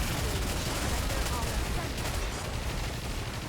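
A video game's Aegis cannon fires in a dense, continuous roar of blasts and rumble, loud and sustained throughout with no pause.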